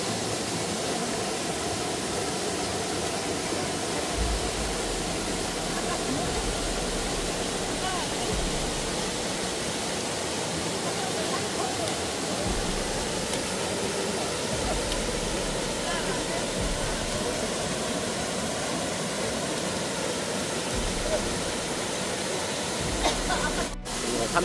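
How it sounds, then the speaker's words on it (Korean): Chilseon waterfall in a mountain valley roars in a loud, steady, unbroken rush of water that lasts throughout and has no voices over it. "여기는 시원한 칠선폭포에 와 있습니다."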